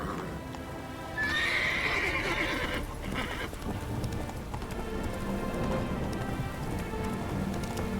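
Roach the horse in The Witcher 3 video game whinnies loudly near the start, then hooves trot on steadily beneath falling rain.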